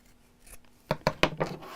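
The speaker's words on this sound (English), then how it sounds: "if you're not too confident in freehand cutting like this" Scissors cutting fabric freehand for a sewn book cover: four crisp snipping strokes in quick succession after a soft rustle, close and clear.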